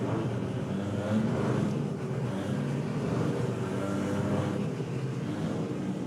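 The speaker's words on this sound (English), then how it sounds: "those rotaries just seem to sound that little bit louder in the dark." Rotary-engine drag race cars run at a night drag racing event, a loud continuous engine roar with a steady rumble and no pauses, heard on its own without talk.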